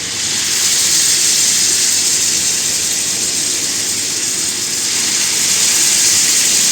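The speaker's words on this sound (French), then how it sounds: "Et maintenant, on va mettre la roulade dedans." A roulade goes into a hot pan and sets off a loud, steady sizzle that holds evenly throughout with no voices.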